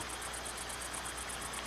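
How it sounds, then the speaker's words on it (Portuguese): Night crickets chirp continuously in a steady, rapid pulsing trill that holds even throughout, with no voices. "grilo."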